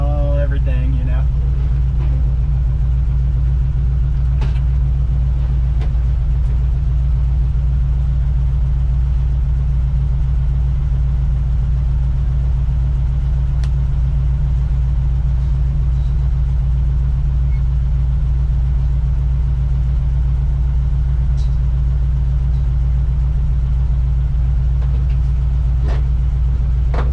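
A 1962 Chevrolet C10 pickup with a 350 engine, big tires and highway gears drives along, its engine giving a steady, loud low rumble throughout, with a brief voice near the start.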